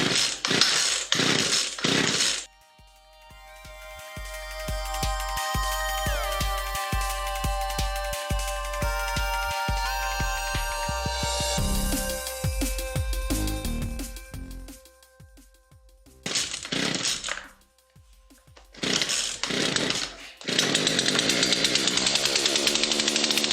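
A chainsaw is pulled to start with a few rough cranks, then roars into loud sustained running with revving surges, briefly cutting out twice before firing up again at full throttle, close by and alone.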